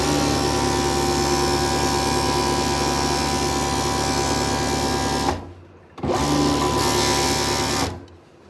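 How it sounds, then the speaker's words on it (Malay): A sewing machine stitches along the edge of a telekung prayer garment with a loud, rapid, steady mechanical whirr, stopping briefly and then running again before cutting off near the end. "Sambung terus jahit tepi sampai ke depan telekung sampai habis"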